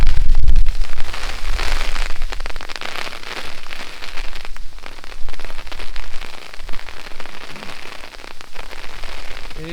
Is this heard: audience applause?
no